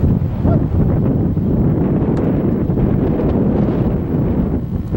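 Strong wind buffeting the microphone outdoors at a high school baseball game, a continuous loud rumbling roar with gusty fluctuations throughout.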